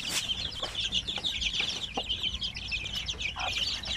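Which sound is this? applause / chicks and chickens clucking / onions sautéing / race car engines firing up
chicks and chickens clucking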